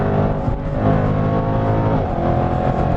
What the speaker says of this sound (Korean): 자꾸 이런 엔진 사운드를 들으려고 가속 페달을 밟게 되고 시프트 다운을 하게 됩니다